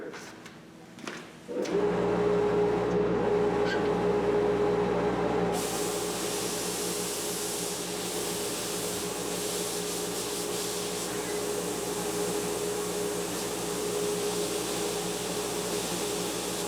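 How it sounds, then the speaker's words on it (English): A shop vacuum starts up at a guitar build and keeps running, a loud, steady whooshing roar that follows a few brief knocks and holds unbroken to the end. "Get our vacuum going and push it through."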